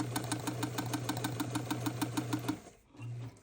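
A sewing machine stitches through fabric in a fast, steady mechanical chatter of rapid needle strokes, stops briefly, then starts up again.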